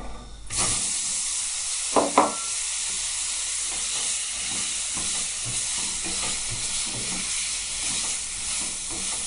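Artichoke pieces dropped into a hot pan with spices give off a steady, loud sizzle and hiss, with a couple of sharp spattering bursts near the start and light stirring scrapes throughout.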